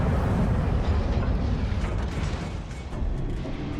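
Heavy guns of a German battleship booming in World of Warships, a loud rumbling blast that rolls and decays over a few seconds with no speech.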